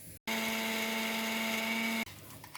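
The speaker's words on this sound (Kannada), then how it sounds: "ಇದಿಷ್ಟನ್ನು ನಾವು ಇವಾಗ ಒಂದು ಗ್ರೈಂಡ್ ಮಾಡಿ ಪೇಸ್ಟ್ ರೆಡಿ ಮಾಡ್ಕೊಳ್ಳೋಣ" A kitchen mixer grinder runs on ginger, onion and tamarind, grinding them into a paste for an avarekaalu sambar. It starts abruptly after a brief gap and gives a steady, loud, high-pitched whine for about two seconds before cutting off sharply.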